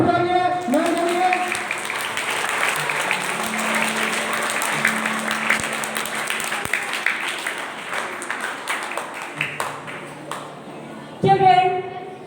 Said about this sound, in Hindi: आप लोग जोरदार ताली बजाइए मैम के लिए।